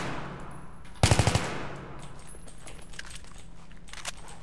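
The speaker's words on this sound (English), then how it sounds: "hold down the fire button" A short burst of rifle fire from the Battlefield 3 video game, fitted with a foregrip and heavy barrel: a rapid string of about five sharp shots near the start, then quieter game ambience with faint distant pops.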